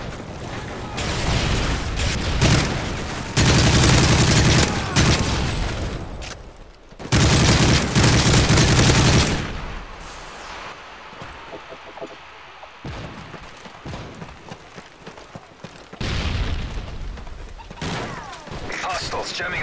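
A stun grenade goes off during a Call of Duty: Modern Warfare 3 multiplayer match, loud bursts of blast and gunfire noise recurring among quieter stretches of game ambience and radio-style voice callouts.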